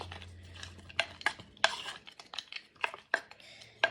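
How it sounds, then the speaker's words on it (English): A spoon stirs cream into wild berry porridge in a bowl, with close clinks and scrapes against the dish coming in an irregular rhythm over a quiet background. "we're going to use this spoon to mix it up"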